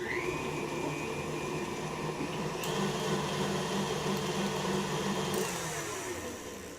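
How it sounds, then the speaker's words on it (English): A stand mixer with the paddle attachment creams ingredients for a birthday cake, its motor giving a steady, fairly loud whir that runs unbroken from start to finish with no talking. "put them in your stand mixer with the paddle attachment. And you just cream that together real nice"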